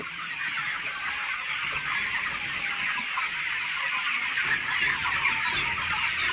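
Many improved country chickens on a poultry farm cluck and chatter continuously, a constant crowded flock sound with no voices.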